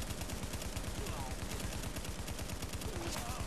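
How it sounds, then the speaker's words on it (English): Gunfire in The Division video game during a firefight with a sniper, rapid continuous automatic shots pounding throughout at moderate loudness, no speech. "I'm getting shot from behind. Oh, what the fuck? Yeah, it's another sniper again."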